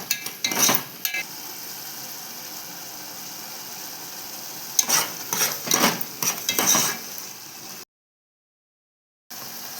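Tamarind juice fries in a pan for obbattu saaru, with a low sizzle under bursts of scraping stirring from a spoon, then a short silence.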